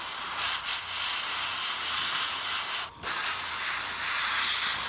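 An airbrush hisses steadily as it sprays paint in wavy designs along the edge of a model wing, a continuous close airy spray with one brief pause partway through and no talking.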